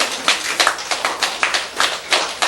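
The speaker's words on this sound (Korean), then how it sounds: "왜 박수를 칩니다" A few hands clapping at a Buddhist sutra lecture, roughly eight distinct, fairly regular claps heard alone in a quiet room.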